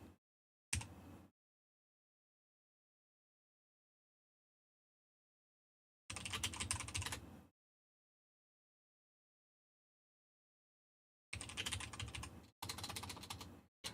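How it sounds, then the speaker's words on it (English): Bursts of typing on a DOS computer keyboard in a quiet room: a short spell of key clicks, a longer run of steady keystrokes, then two more close bursts, each separated by silence. "This is a DOS keyboard."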